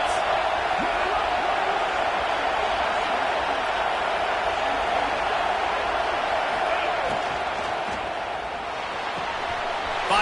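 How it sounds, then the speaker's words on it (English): A college football video game crowd roars continuously in a stadium during a Texas A&M dynasty game, with a broad, steady wash of noise under an announcer's ongoing play-by-play commentary. "This crowd trying to make life miserable for this offense."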